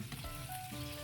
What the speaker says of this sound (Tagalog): Yan, pirito siya sa sariling mantika.